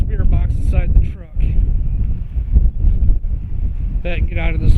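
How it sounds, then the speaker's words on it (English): Strong wind on a very cold night in a cemetery, roaring and buffeting close to the microphone in steady low gusts, with brief snatches of voices or radio-like chatter breaking through at the start and end. "It's crazy windy."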